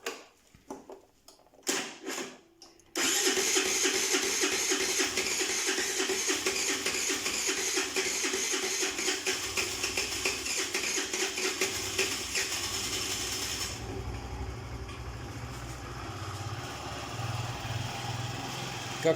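A freshly rebuilt Khors 051 scooter engine fitted with an old piston kicks over after a few sputtering attempts, then settles into a steady, buzzy two-stroke running note that holds close and loud, dropping slightly in pitch near the end.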